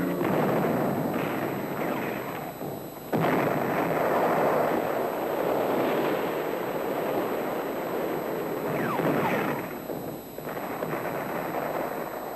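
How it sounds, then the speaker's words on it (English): Shore guns open artillery fire on the fort at Charleston in April 1861, heard as repeated heavy booms and rumbling blasts layered over a dense roar, loud and sustained with brief dips between salvos. "With the people of Charleston watching history from their rooftops, the shore guns open fire."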